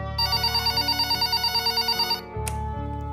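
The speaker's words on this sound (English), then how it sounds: "my phone rang." A telephone bell rings loudly in a steady repeating ring pattern, close and alone, with the ringing cutting off near the end and a brief click following.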